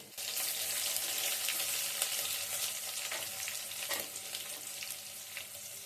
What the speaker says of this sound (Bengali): যে কোনো তরকারিতে যদি সুটকি দিই আগে আমি সুটকিগুলো ভেজে নিই